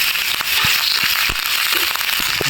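Ginger paste hits onions frying on medium-low heat for a mustard-style foli fish curry, bursting into a fast, uneven crackle and spitting that stays fairly loud and close for a couple of seconds.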